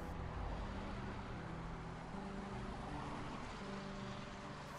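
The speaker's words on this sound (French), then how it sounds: "Marco conduit sa voiture." A car driving along on a sunny day, its engine and road rumble a steady, continuous drone heard fairly close, with no voices over it.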